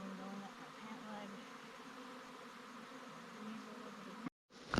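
Honey bees from a swarm buzzing around a hive outdoors, a steady dense hum of many insects with individual wingbeats flickering in and out, faint and continuous until a sudden cutoff near the end.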